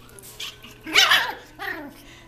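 A puppy gives a few short, high yips close by, with light laughter mixed in.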